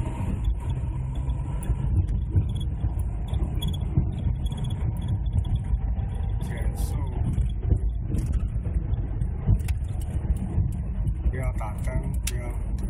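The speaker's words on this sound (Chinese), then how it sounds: "双离合器加速" A car with a dual-clutch gearbox pulls hard in fourth gear, its steady engine and road roar filling the cabin while people talk over it.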